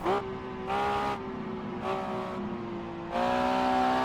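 An Alpine A211 race car in a historic racing video game, its engine droning steadily with pitch rising and falling through gear changes, loud and close, with no talking over it.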